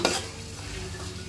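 A spoon stirs chicken curry with bottle gourd in a hot pan, giving a close, steady sizzle with a soft scraping stir at the start.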